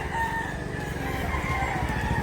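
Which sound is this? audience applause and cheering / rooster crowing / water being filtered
rooster crowing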